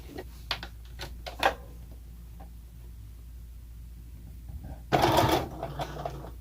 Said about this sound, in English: I'm going to sew all the way down this way